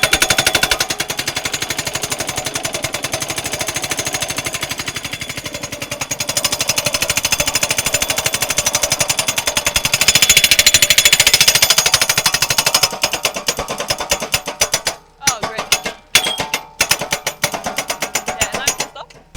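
A drilling wagon's rock drill hammers down into rock with a loud, rapid pneumatic pounding that runs continuously, then breaks into choppy bursts and pauses toward the end.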